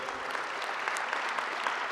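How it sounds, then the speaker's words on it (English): A dense, steady wash of audience clapping at a Saskatchewan Roughriders Plaza of Honour event fills the room evenly from start to finish, with no break or fade. "go and clap it up"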